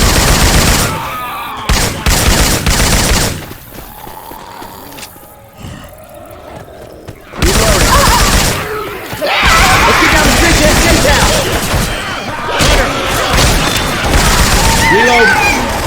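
Gunfire in a Left 4 Dead 2 session using Syphon Filter weapon effects: loud bursts of shots and rapid fire come in clusters with a quieter gap in the middle, and voices call out between the shooting.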